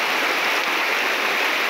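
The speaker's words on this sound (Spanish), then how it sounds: "sigue lloviendo bastante" Steady, dense hiss of rain falling, a constant wash of noise with no pauses and no voices.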